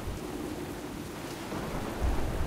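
Thunderstorm with heavy rain at sea aboard a ship in World of Warcraft, a steady dense hiss of rainfall under low rumbling thunder that swells louder near the end, no voices.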